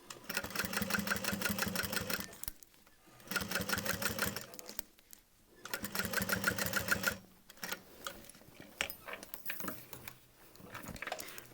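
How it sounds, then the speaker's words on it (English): Sewing machine stitching across the top of a leather convertible backpack in three rapid bursts separated by short pauses, then slower, uneven stitching with handling noise; fairly quiet and close. "we are going to sew across the top"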